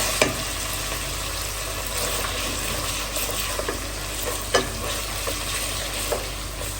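Ginger and garlic fry in a pan for hilsa fish khichuri, a constant bright sizzle with scattered spoon clinks and stirring taps, close and moderately loud, no voices.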